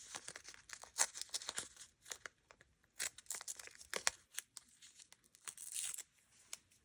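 Painter's tape being peeled and torn for acrylic abstract painting, a series of quiet, close crinkly rips and crackles in irregular bursts, with no talking.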